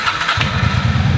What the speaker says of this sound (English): Let's see if the bike will start.